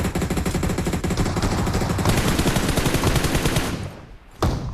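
Rapid automatic gunfire in PUBG Mobile, a sustained loud stream of shots for several seconds, then a pause and one final burst, with no talking.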